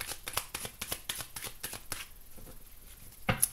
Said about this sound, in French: Je mélange, je coupe.